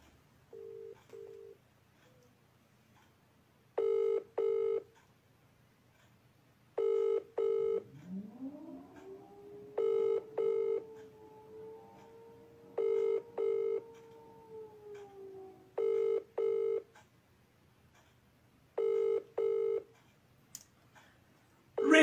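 A telephone rings in repeated double bursts, each pair followed by a pause, with a brief rising tone sliding underneath partway through and no talking.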